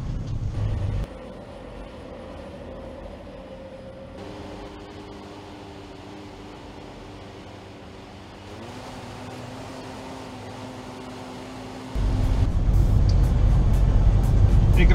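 A new Freightliner truck cruises through Las Vegas, heard from inside the cab as a steady engine drone and road hum, with tonal shifts as it changes gear and a louder rumble building near the end.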